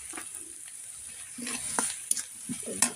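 Chilies and onions fry in a pan on a clay stove, a soft sizzle under intermittent spatula scrapes and clinks that grow more frequent in the second half, close and fairly quiet.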